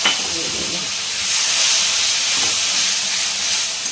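Spiced water poured into a hot pan of ghugni gives a steady, close hiss and sizzle that swells slightly midway and holds.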